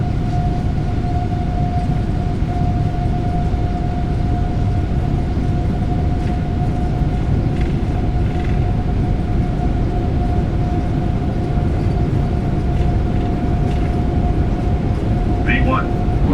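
Boeing 777-300ER jet engines at takeoff thrust in Microsoft Flight Simulator 2020 give a loud, steady broadband roar with a droning tone, heard on a midnight departure from Beijing.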